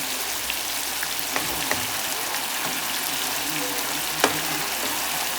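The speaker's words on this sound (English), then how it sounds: "It's really starting to caramelize." Sauce caramelizing in a pan for a lemon herb pasta dish sizzles and fries with a steady, dense crackle, near and continuous, with a few sharper pops and faint clinks.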